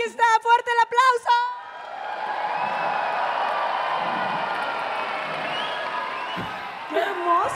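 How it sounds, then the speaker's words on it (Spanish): A crowd at a drag competition grand finale cheers and applauds loudly in a sustained roar with whoops, after a brief burst of an emcee's voice at the start and a voice returning near the end. "¡Fuerte el aplauso!"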